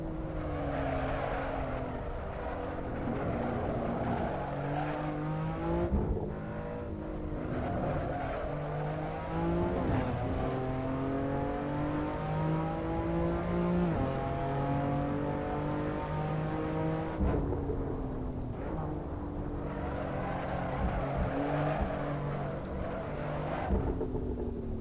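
A race car engine in a sim racing video game drones and revs steadily throughout, its pitch climbing through gears and dropping under braking, with brief shifts in tone and no talk over it.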